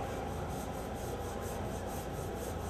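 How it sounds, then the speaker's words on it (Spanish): Steady, continuous sanding with a rubbing, abrasive texture over a constant motor hum from a sander connected to a vacuum extractor, fairly quiet and even throughout, with no talking. "Vamos a conectarlo a la aspiradora y vamos a lijar ahora con la aspiradora."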